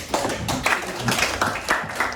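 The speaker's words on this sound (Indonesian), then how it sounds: "Oke, tepuk tangan buat." Several people clap in a classroom, a brief patter of uneven hand claps, close and moderately loud, with no talking.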